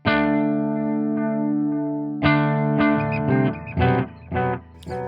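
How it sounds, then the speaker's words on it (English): Electric guitar played through a Zoom G1Xon multi-effects pedal set to tape echo delay: a sustained chord rings out, then a second strum and several rhythmic chord stabs follow, each trailed by repeating echoes. Loud and close, with no talking. "the next one is the delay. So this is, again, it's a tape echo"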